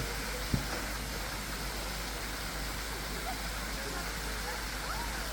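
Erawan waterfall roars as a steady, full wash of rushing water, loud and unbroken, with one brief knock near the start.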